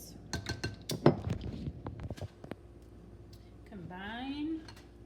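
Taco casserole ingredients mixed in a bowl for a keto dish, with close, quick clinks and knocks of a utensil against the bowl in the first half, then quieter, and a brief vocal sound near the end.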